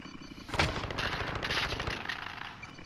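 Rapid gunfire in a first-person shooter video game, a dense rattle of shots that hold steady for about two seconds at moderate loudness and then fade, with no voices.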